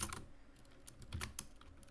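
Code being typed on a computer keyboard, a short burst of soft, close key clicks in a quick, irregular patter with no voices.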